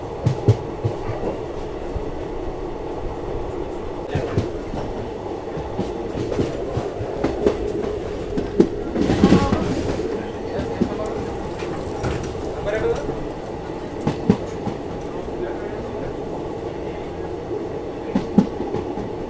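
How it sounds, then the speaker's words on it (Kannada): Express train 07377 leaving Bagalkot railway station on the Vijayapura–Mangalore run, a continuous rolling rumble with rhythmic clickety-clack of wheels over rail joints and a brief louder burst midway, with a person talking over it. "2 minutes ಹಾಲ್ಟ್ ಆದಮೇಲೆ ನಾವು ಹೊರಟ್ಬಿಟ್ಟಿದ್ದೀವಿ ಬಾಗಲಕೋಟೆ ರೈಲ್ವೆ ಸ್ಟೇಷನಿಂದ"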